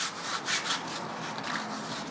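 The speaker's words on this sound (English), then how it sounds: "run your hands like this through the tire" Hands rubbing along a bicycle tire while hunting for a puncture, a soft, continuous close-up friction sound with slight swells, alone and fairly quiet.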